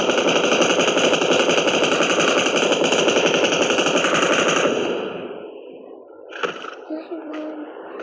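Dense continuous automatic gunfire from a powerful weapon in a multiplayer shooter, loud and sustained for several seconds before cutting off, followed by a few fainter shots and scattered game sounds.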